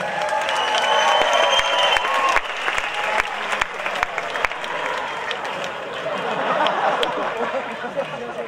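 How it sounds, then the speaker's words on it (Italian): An audience at a comics convention live show claps and cheers loudly throughout, with crowd chatter and sharp individual claps standing out from the steady roar. "Facciamo un applauso al Cavaliere Oscuro"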